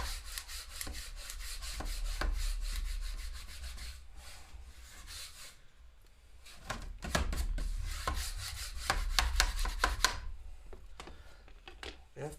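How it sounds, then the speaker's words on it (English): A squeegee is pushed across masking film on a custom airbrush paint job, making intermittent close rubbing and scraping strokes in bursts separated by quiet gaps. "I'm going to squeegee this on."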